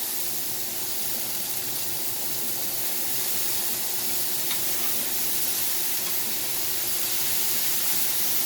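Onions sizzling in a hot pan, a steady, even hiss of frying with faint stirring, close and uninterrupted, and no talk over it.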